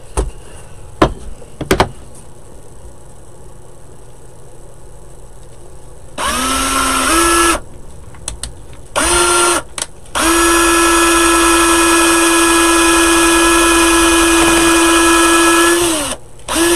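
A power drill whirs in bursts while drilling a hole, a short run, a couple of brief spurts, then a long steady high-pitched spin up close, with clicks between.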